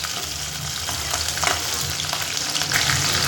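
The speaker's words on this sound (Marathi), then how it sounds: "त्याच्यानंतर लसूण जिरं लसूण चांगला लाल झाला का मग नंतर मिरच्या टाकायच्या घालून घ्यायचं" Garlic, cumin and green chillies frying in hot oil in a pan: a steady, loud crackling sizzle with small pops and occasional stirring scrapes, close and continuous with no talking.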